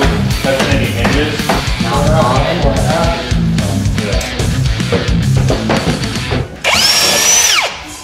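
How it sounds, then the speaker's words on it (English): Power drill driving hinge screws into a door frame during a studio overhaul, whirring loudly in bursts with a sharp rising whine near the end, over continuous background noise. "in the frame we'll use a drill"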